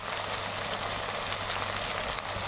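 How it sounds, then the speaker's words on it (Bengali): Potatoes, green chilli and onion frying in a pan for a chowmein dish, giving a steady, even sizzle close by with no break and no talking. "একটু ভালো করে ভাজা ভাজা করবো।"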